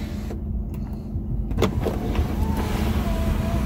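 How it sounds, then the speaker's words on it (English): Motorized hum of a 2012 Mercedes-Benz C-250 panoramic sunroof opening inside the car cabin, a steady close electric whir with a faint squeak, rising slightly in level as it runs. "Sunroof pops right up."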